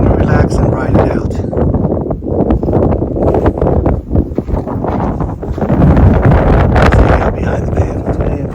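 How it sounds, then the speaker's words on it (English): Gusty wind buffets the microphone at a campsite by a van at Diaz Lake near Lone Pine in the Sierra, a loud continuous roar with rustling surges, and a voice talks over it. "It's getting a little windy today."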